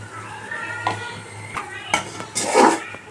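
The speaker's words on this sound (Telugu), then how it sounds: "గోంగూర వేసేసుకున్నాక ఒకసారి తిప్పుకుందాం." A spoon scrapes and clinks around a pot as ground gongura is stirred into half-cooked prawn biryani, giving a few short metallic knocks and a louder scrape near the end, with a low hum underneath.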